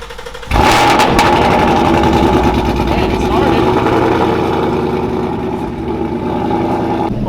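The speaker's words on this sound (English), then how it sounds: "Is the car gonna start up?" A Ford car's engine cranks and catches after a new fuel pump install, then settles into a steady, loud idle that fills the space close by, with a slight dip in level toward the end.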